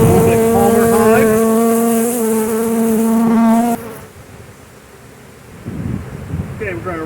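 Agitated honeybees swarm around an opened hive during Demaree swarm control, making a loud, close, droning buzz that cuts off abruptly partway through and leaves quieter sounds of handling and faint buzzing.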